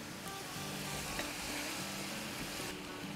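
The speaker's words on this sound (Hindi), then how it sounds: "और अब इसको हिला लेते हैं" Chicken jalfrezi stirred in a frying pan, a dense, even sizzle with faint scraping of a spoon running underneath, close and steady throughout.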